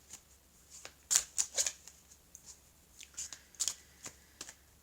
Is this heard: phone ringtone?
no